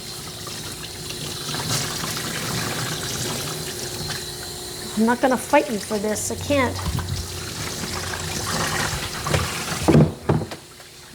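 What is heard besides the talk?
water rinsing soap out of a Coton de Tulear's coat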